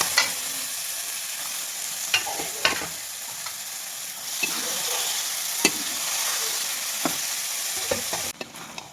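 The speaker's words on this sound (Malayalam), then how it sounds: "ബീഫിനെല്ലാം കൂടി ഇതിലേക്ക് തട്ടി കൊടുത്ത് ഇളക്കിയെടുക്കാമെന്ന് വിചാരിച്ചു" Beef and onions for a Kerala-style beef varattu sizzle steadily in a pan, broken by scattered scraping clicks as a spoon stirs through them, close and with no voices.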